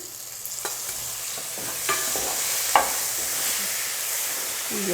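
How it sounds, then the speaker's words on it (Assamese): Tomatoes fry in a pan for fish curry with a soft continuous sizzle, broken by a few sharp scrapes and clicks of a spatula stirring against the pan. "বিলাহীখিনি দি অলপ ভাজি লৈ"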